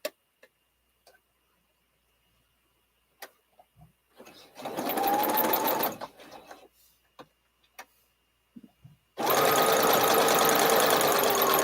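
A sewing machine stitching a fabric tulip stem whirs in two rapid, even runs, a short one and a longer loud one, with scattered small clicks and handling noises in between.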